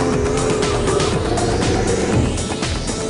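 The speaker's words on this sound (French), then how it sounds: "Nous en abordons un à fond la caisse et freinons à peine." A Porsche taken into a roundabout flat out roars with a loud, close engine note, with tyre noise running underneath for a few seconds.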